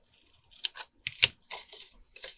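Scissors snip tabs off paper pockets for a mason jar card, with a few short, close crisp cuts separated by brief pauses.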